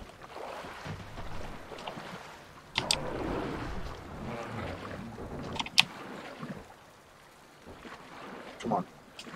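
Boat moving across water in the video game Metro Exodus, a low churning wash with splashes and faint clanks that swells after a few seconds, mixed with occasional game sounds.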